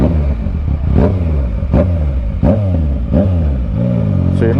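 A Yamaha Tracer 900 motorcycle's exhaust while it is being ridden: a loud, close engine drone with repeated rising revs, some five pulls in a row, with no voices.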